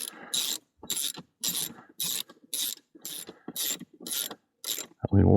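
A ratchet wrench starting the air filter bolts on a 2012 Chevrolet Silverado, nine quick bursts of rapid clicking in an even rhythm, close and clear, ending in a louder thunk.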